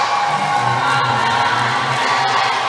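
A large, continuous crowd cheers and shouts through a tied volleyball semifinal between women's firefighter and police teams in the Philippines, a dense roar with whoops rising over it throughout.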